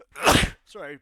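A sharp, explosive sneeze bursts out up close, followed after a short pause by a person speaking briefly.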